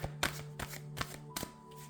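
Soft riffling tarot card shuffles in a quiet room, a few close bursts spaced roughly half a second apart over a low steady hum.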